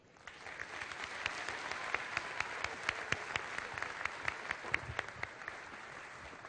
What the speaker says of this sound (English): let's give our undivided attention and a round of applause for this fantastic Falcon, Mara Brown.